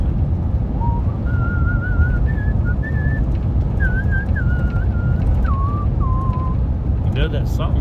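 Someone whistles a slow, gliding hymn melody, clear and steady over a constant low background rumble, with a brief clatter at the very end.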